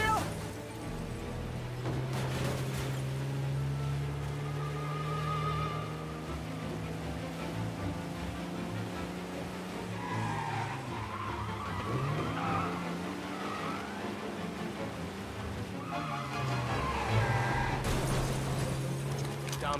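A car in Mafia: Definitive Edition skids with squealing tires over a steady, droning engine and wrecks itself, with a voice talking partway through.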